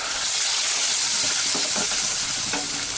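Ground spice masala frying in a pan with curry leaves, dried red chillies and hing while making sambhar, a steady close sizzle and hiss with faint stirring scrapes throughout.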